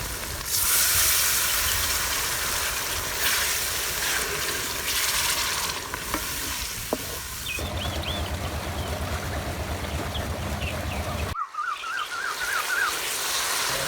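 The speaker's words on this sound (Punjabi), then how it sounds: "ਹੁਣ ਇਹਦੀ ਸ਼ਾਮਿਲ ਕਰਾਂ ਥੋੜਾ ਜਿਹਾ ਪਾਣੀ" Water is poured into a pan of frying spiced masala for a yogurt chicken dish, setting off a loud hissing burst of steam that settles into a quieter, continuous bubbling sizzle.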